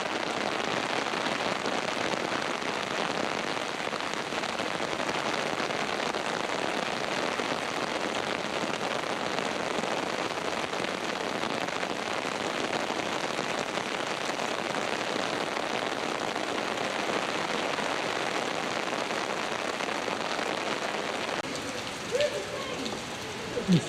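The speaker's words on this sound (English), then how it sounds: "Not getting blasted of rain." Rain falls steadily around the Palace of Fine Arts dome in San Francisco, a dense, even hiss that holds loud and unbroken throughout, with a few small knocks near the end.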